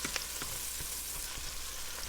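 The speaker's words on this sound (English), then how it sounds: "Put the smell of sauteing garlic with the smell of sauteing onions." Garlic and onions sauté in a pan with a steady broadband sizzle throughout, broken by a few soft stirring clicks.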